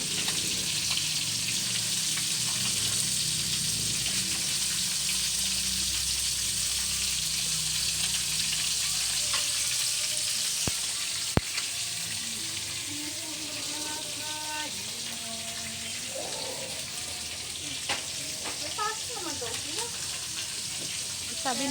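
Dalagang bukid fish fry in hot oil with a constant close sizzle and crackle, while light stirring clinks and faint voices sit beneath it.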